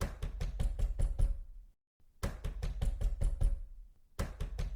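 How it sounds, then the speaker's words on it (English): Knuckles knock on an apartment door in three quick bursts of about five to six raps each, separated by brief pauses, close and fairly loud with no talking. "He knocks again and again."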